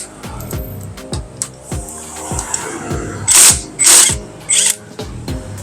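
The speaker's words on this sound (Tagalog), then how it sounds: "Ito yung gagamitin natin para matanggal natin yung nut niya dito." An impact power tool fitted with a 17mm deep socket removes the nut on an ADV160 scooter's magneto, giving rhythmic hammering bursts followed by several loud whirring spins close up.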